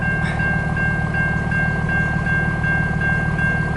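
A long CN eastbound mixed freight train rolls steadily past at slow speed in Port Huron, Michigan, with a constant loud low rumble, a sustained high whine and faint periodic wheel clicks throughout.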